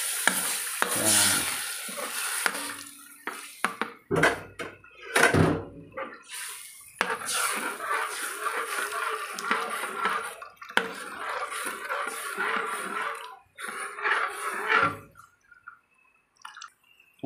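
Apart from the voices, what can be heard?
pouring second-press coconut milk into laing pot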